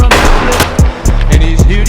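Slow-firing secondary gun in the Roblox game HELLMET, heard as several loud, evenly spaced single shots with gaps between them, each with a sharp crack and a short ringing tail, and no voices.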